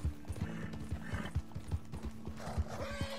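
In Red Dead Redemption 2, a horse whinnies while its hooves clip-clop in a steady rhythmic gait across the ground, with a low tonal game drone underneath and a brief higher call near the end.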